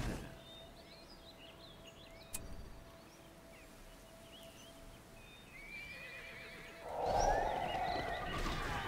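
A horse neighs and whinnies in the fantasy strategy game The Lord of the Rings: Battle for Middle-earth II, set over faint birdsong and an ambient bed, with a louder burst of sound near the end.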